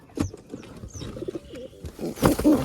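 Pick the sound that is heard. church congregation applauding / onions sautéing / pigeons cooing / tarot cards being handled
pigeons cooing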